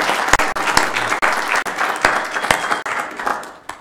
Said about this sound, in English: can give her a round of applause